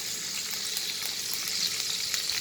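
Mustard seeds sizzle in hot oil with a steady, hissing fry that continues throughout at moderate volume, with no talking.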